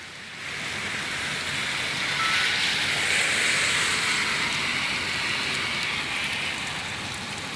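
Steady broadband hiss of rain, continuous and even, rising slightly and holding, with no voices.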